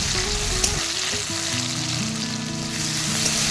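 Onion, green chilies and chopped tomato frying in mustard oil in a pan, a steady close sizzle and crackle with faint stirring throughout, no talking.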